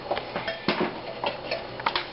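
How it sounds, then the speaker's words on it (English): A big fork whisks whoopie pie batter in a bowl, giving repeated light clinks and scrapes against the bowl in a loose, steady rhythm, close up and alone. "This time Izzy's going to mix them all up with this big fork."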